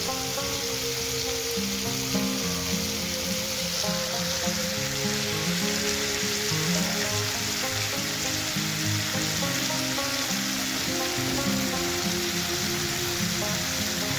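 Shrimp with okra frying in a pan with coriander and cumin powder, stirred now and then; a steady, fairly loud sizzle runs throughout, with a faint tonal hum underneath.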